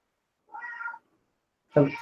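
A cat meows twice indoors, a short soft call followed after a pause by a louder, sharper one, close to the microphone with no talk.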